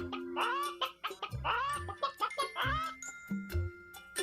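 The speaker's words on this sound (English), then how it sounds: "Chicken." Chicken clucking sound effect from a Baby Einstein neighborhood animals program, a few short bursts of fowl calls repeating close and clear with no talking over them.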